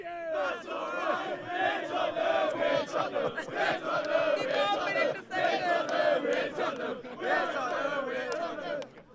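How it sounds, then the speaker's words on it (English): A live crowd at a wrestling-review show cheers and shouts in a loud, sustained roar of mixed voices, swelling and dipping briefly before rising again. "If you think it's going to happen, you cheer."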